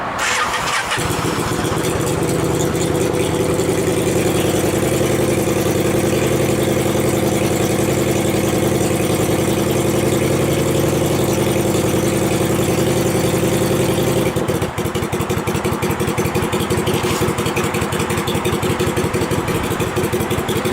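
A Kawasaki cafe street fighter bobber motorcycle cranks and fires up, then settles into a loud, steady rumbling idle close by for about twenty seconds, with no talking.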